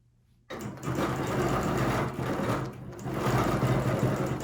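A sewing machine starts abruptly and stitches a star design on a quilt, a close, steady mechanical whir with a brief slowdown midway before running on continuously.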